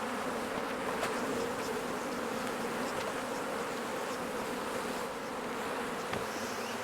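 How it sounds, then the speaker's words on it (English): Dense, steady buzzing of many honey bees swarming over an open hive box in an apiary, a continuous close drone with no talk. "Lots of bees."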